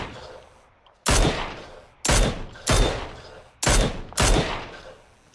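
Gunfire rings out in a battle royale video game: five loud, sharp blasts spaced roughly a second apart, each ending in a ringing decay, with no talking.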